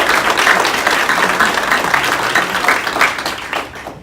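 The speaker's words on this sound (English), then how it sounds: "A round of applause for our student leaders." A school board meeting audience gives a round of applause for student leaders, a dense, lively burst of clapping from many hands that holds strong and then fades out at the end.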